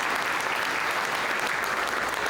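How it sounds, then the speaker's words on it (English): An audience at a live interview event applauds steadily after an answer, dense continuous clapping from a crowd that stays at an even level throughout. "I don't know that I've ever been in an interview where they get claps after every answer"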